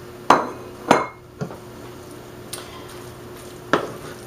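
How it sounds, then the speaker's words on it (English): Several spaced clinks of a utensil against a bowl while mixing chicken flauta filling with a cup of cheese, four or five sharp knocks with quiet gaps between them. "And then we're going to stir to combine that up."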